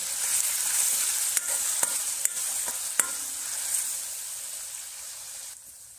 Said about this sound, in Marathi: लसूण आणि हिरवी मिरचीची पेस्ट घालून घेऊ। पेस्ट चांगली परतवून घेऊ आपण।